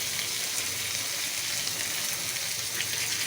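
A little water poured into a hot pan of frying masala goat liver sets off a loud, steady, hissing sizzle that fills the whole stretch without letting up, with no talking over it.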